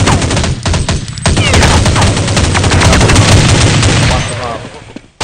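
Counter-Strike 1.6 gunfire erupts in loud, rapid bursts of automatic shots that run almost without pause for several seconds before trailing off, with scattered single cracks mixed in.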